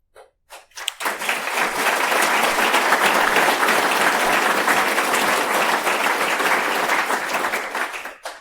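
Audience applause at a hardware security conference talk, a dense sustained burst of clapping that swells up after a second and holds steady before tapering off, loud and with no talk over it.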